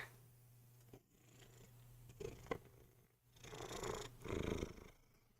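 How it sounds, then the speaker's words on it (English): Close, rumbling cat purring with a steady low drone that swells in waves, with soft rustling and handling noises. "Purring so loud. Can you guys hear him?"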